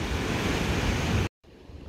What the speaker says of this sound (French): Elles sont plus belles les vagues qui vont contre les rochers.